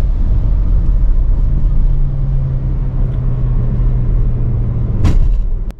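A Mercedes-Benz GLA220 4MATIC compact SUV rolls along with a continuous low road and engine rumble, broken near the end by one sharp, brief thump as the tires hit a bump.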